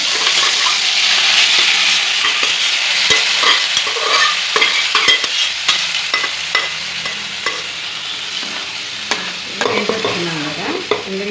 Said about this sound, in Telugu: ఇప్పుడు ఆయిల్లో ఈ తిల్లు మొత్తం వేసేద్దాము లైట్గా